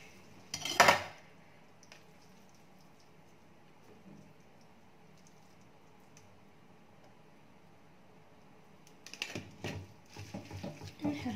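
Mushroom sauce for indomie noodles is stirred in a pan, with metal utensil clatters in a short burst, quiet kitchen ambience, then more scraping and clinking near the end.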